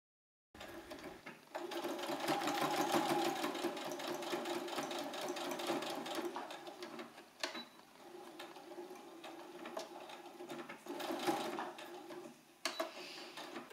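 Sewing machine topstitching both the left and right sides of a flap on a puffer jacket, running in fast steady bursts with short pauses between passes, close and fairly quiet.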